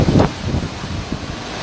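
Strong wind of Hurricane Dorian in St Thomas, a loud gusty roar and microphone buffeting with a strong burst at the start and steady rushing noise after.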